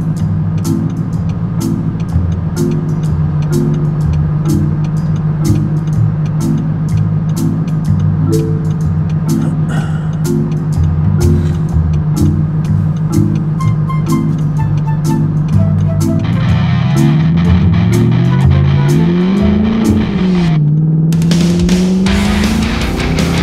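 A custom-design Audi R8 with a 4.2-litre V8 drives along, its engine droning steadily with a rhythmic pulse before the pitch swoops up and down as it revs near the end, loud and close.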